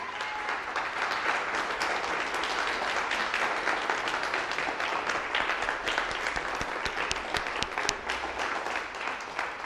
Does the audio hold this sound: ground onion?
no